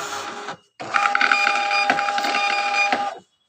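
Dc 421/431 thermal transfer label printer printing copies: a brief mechanical whir, a short pause, then a longer steady buzzing run of printing that stops abruptly, close and fairly loud with no voices.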